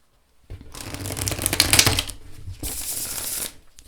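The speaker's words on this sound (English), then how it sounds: "Shuffles like a dream, and overhand shuffles so nicely as well." An overhand shuffle of a Steampunk Faerie tarot deck on Llewellyn cardstock makes close, soft papery swishes and card slaps in two bursts after a short silence, with no talking.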